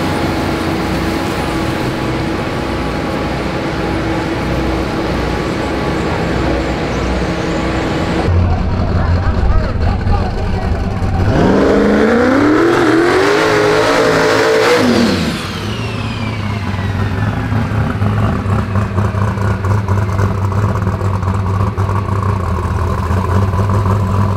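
A loud turbocharged drag car engine roars steadily at a drag strip, then revs hard with rising and falling whine for several seconds before dropping back to a rumbling idle; voices murmur underneath.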